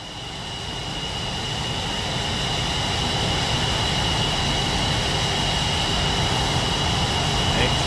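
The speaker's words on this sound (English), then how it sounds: "we are here in the MiG-29 Fulcrum." MiG-29 Fulcrum jet engine in a flight simulator game, a steady, loud, broadband roar with a thin high whine that swells slightly over the first seconds and then holds even.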